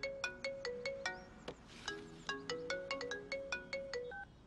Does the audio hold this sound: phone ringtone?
yes